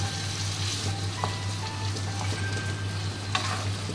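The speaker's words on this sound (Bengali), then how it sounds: "ম্যারিনেট করা চিকেনটা এবারে দিয়ে দিয়েছি। এটা কিছুক্ষণ কষিয়ে নেব এটা ভালো করে।" Marinated chicken for chicken do pyaza frying in a pan over low flame, a continuous close hiss and crackle with a couple of faint utensil taps, no speech.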